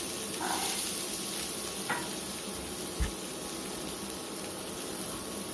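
Carrots and onions are sautéed in a pan, giving a continuous broad hiss of frying, with a few soft stirring scrapes and one low knock partway through.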